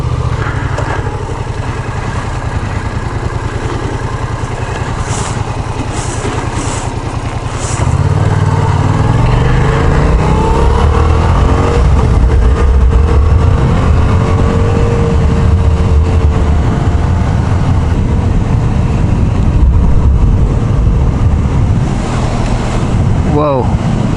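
A Yamaha FZ-07 motorcycle rides through canyon roads near Piuma and Mulholland, its engine droning loudly under heavy wind rush, with the pitch and load shifting as the bike speeds up partway through.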